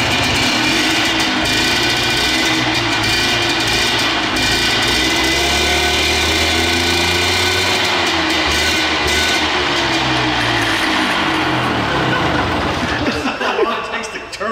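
A cheap used two-stroke quad runs close by in a loud, rough, buzzing drone that holds steady for many seconds, with people talking over it.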